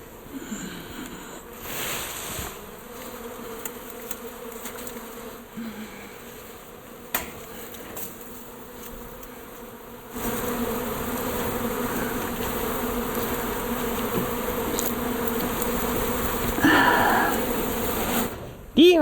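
A swarm of bees from a wild hive removed from a cupboard has been tipped onto a screen. The bees buzz steadily and densely throughout, growing louder and fuller partway through, with a few voice-like sounds mixed in.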